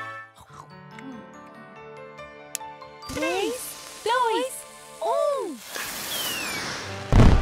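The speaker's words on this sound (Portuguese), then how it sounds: "Depois, teremos mais fogos." Cartoon fireworks bursting after soft tinkling music: several whistling rockets rise and pop in quick succession, ending in a loud burst near the close, with voices present.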